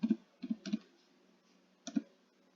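A computer keyboard is tapped to enter a four-digit LEGO set number, a few close, quiet clicks in two short clusters separated by a pause.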